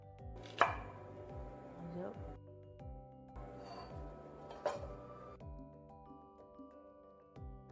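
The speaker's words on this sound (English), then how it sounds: "I will now carefully peel and chop the onion." A knife chops an onion in a kitchen while a filling is prepared, giving a series of sharp, close board knocks in uneven bursts, with a faint hum of kitchen appliances underneath.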